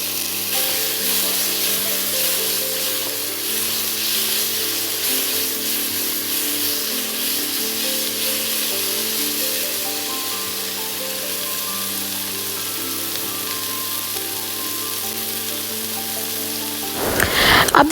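Onion and tomato sautéing in a pan for a lentil curry, a steady broadband sizzle with faint scraping running loud and unbroken, then a brief clatter at the very end.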